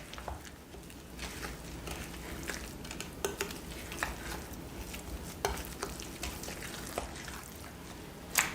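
Black bean burger mix with Italian breadcrumbs is stirred in a bowl, making soft, fairly quiet scraping and a few sharper taps of the spoon, irregular and close.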